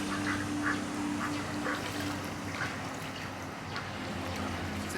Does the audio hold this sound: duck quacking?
yes